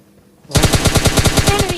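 Rapid automatic gunfire in PUBG Mobile Lite, a loud close burst of evenly spaced shots that starts abruptly and keeps going without a break.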